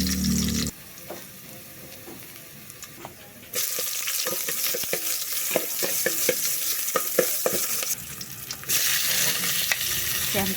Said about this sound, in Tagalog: Mainit na yung kaserola ko, ilalagay ko na yung bawang sibuyas at kamatis.